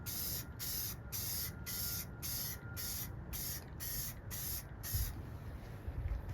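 Repeated bursts from a fresh aerosol spray can, about eleven short hissing sprays in steady rhythm, loud and close, ending with a quieter stretch of background noise.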